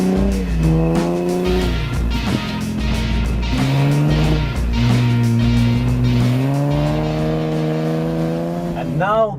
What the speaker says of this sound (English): the highlight is the crackling sound that exhaust system makes while delivering that power